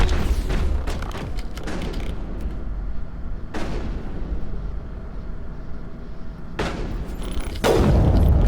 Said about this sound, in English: Did I just put a grenade there?